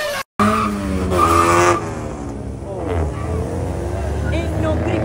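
A Toyota Yaris drifts with drawn-out, wavering tire squeals over its revving engine, loud and close, after a brief dropout, while people talk and react in the background.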